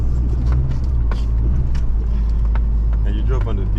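Low, steady rumble of a car idling while parked on a beach sand dune after four-wheeling, with voices talking over the engine drone.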